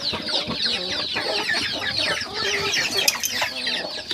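Chickens cluck busily while feeding on mash, a dense chorus of short, overlapping calls close by and continuous throughout, with some pecking and scratching beneath.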